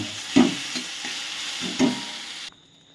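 Okra frying and being stirred in a pan, a steady oil sizzle broken by a couple of sharper scraping clacks, cutting off abruptly near the end.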